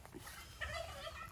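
A turkey gobbles outdoors in a brief, faint burst of warbling calls set against low background rumble.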